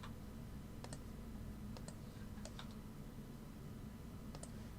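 A computer keyboard clicks in a few sparse, crisp taps over a steady low background hum, with no talking.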